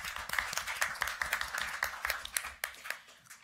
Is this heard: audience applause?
yes